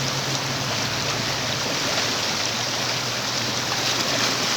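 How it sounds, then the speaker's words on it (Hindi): Floodwater rushing through a swollen stream at night, a loud, dense, continuous roar with no pauses, close by and alone. "ये रात का वक्त है और नदी नालों में तुगयानी आ गए।"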